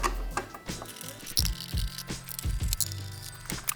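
A hand ratchet works loose the subframe bolts on a motocross motorcycle, giving close bursts of rapid clicking and metallic ticks with short pauses between strokes.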